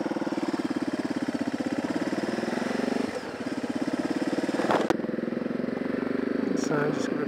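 A 1998 Honda VTR1000 Firestorm V-twin motorcycle engine running close up with a steady, lumpy throb, briefly revved with a rise and fall in pitch and an exhaust pop, under occasional light talk.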